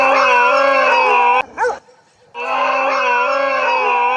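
Village dogs cry out in loud, drawn-out tonal howls, broken by a brief sharp yelp and a moment of near silence before the sustained calling resumes close by.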